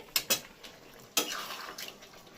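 A spoon clinks sharply against a pot a few times as chicken curry is stirred after water is added, quiet and close, with a soft wet swish between the knocks.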